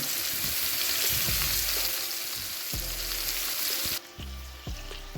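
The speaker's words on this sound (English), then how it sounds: "So I just placed my steak in my pan and with my sauted onion and garlic butter." A ribeye steak sizzles loudly in a pan with sautéed onions and garlic butter, a steady close frying crackle with a few clunks and scrapes, dropping somewhat quieter near the end.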